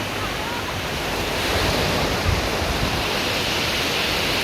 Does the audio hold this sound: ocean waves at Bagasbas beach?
yes